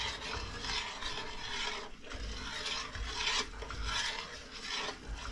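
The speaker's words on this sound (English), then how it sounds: "keep stirring and keep getting all the bottom of the pan" A thick Tahitian chestnut mixture is stirred in a pan, its scraping and rasping along the bottom coming close and steady in repeated strokes with no talking.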